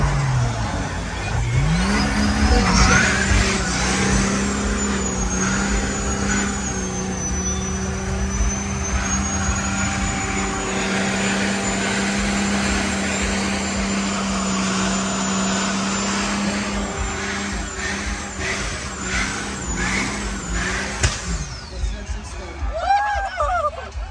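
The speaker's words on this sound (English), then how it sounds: "These words, one more burnout." A truck at a rowdy Canadian truck event does a burnout, its engine revving hard and holding a loud, steady roar with tire squeal for about twenty seconds before it cuts off, with crowd noise and voices around it.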